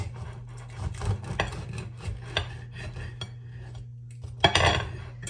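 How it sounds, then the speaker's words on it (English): A knife saws through a dense loaf of homemade bread, with soft scraping strokes and occasional clinks on the board, close and fairly quiet, ending in a louder scrape. "And now I'm gonna cut this bread and see what I think."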